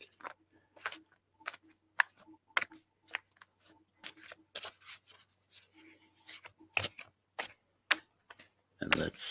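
Tarot cards being shuffled by hand make a rapid series of crisp, close slaps and riffles in an irregular rhythm, with a few quiet spoken words between them.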